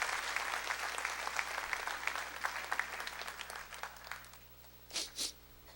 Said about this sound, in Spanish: Dale un aplauso porque ya está a la puerta el Señor Jesucristo.